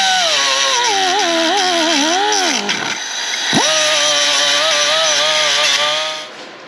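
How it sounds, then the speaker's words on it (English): A grinder whines loudly as it strips paint off a vehicle wheel during an Xterra engine swap, its pitch sagging under load, dipping briefly near the middle, then recovering to a steady high drone before tapering off. "We're gonna take a grinder, we're just gonna kind of take the paint off this a little."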